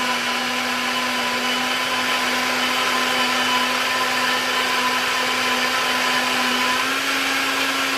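A Silvercrest SSMZ 300 B2 smoothie maker runs at a steady high-pitched motor whine, blending continuously and loudly for the whole stretch without pause.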